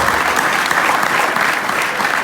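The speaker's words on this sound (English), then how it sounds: "let's give another round of applause for Dr. Ava Muhammad" An audience applauds Dr. Ava Muhammad after her message, loud, dense and sustained clapping from a large crowd, close and unbroken for the full stretch.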